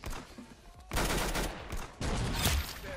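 Rapid bursts of gunfire from a shooter video game, loud with sharp onsets and clusters of shots, a brief quieter gap, then another heavy burst.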